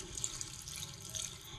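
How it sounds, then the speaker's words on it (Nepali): Water from a tap running over soaked black lentils in a bowl, a soft, steady trickle and splash heard briefly and close. "हजुर यसको लागि पानी हालेर यसरी"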